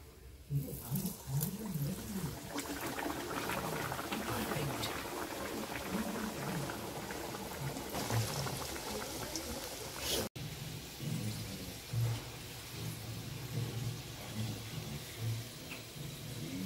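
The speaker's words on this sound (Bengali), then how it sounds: "ফার্স্ট এটা দিয়েছে মোগলাইটা, ওইটা ভাজা হচ্ছে, আর ওইদিকে দেখো লাস্ট রাউন্ডের মোমোটা হচ্ছে।" Mughlai paratha frying in oil while the last batch of momos steams nearby in a home kitchen, making a steady bubbling sizzle with a soft hiss under it that runs through the whole stretch, with faint voices at times.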